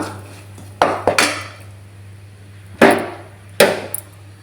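A spoon stirs a spicy mixture for puffed-rice snack in a pan, giving a few sharp metallic clanks and scrapes in separate clusters over a quiet, steady hum, with no talking.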